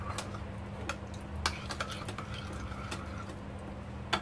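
Chicken being mixed with spices in a bowl by hand: soft, continuous squelching and scraping with a few sharp clicks against the bowl, steady and close throughout, no speech.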